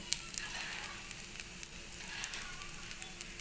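Vegetarian pasta ingredients fry in a pan as cumin powder goes in, giving a soft, steady sizzle with faint crackles and light pops, close and low in level.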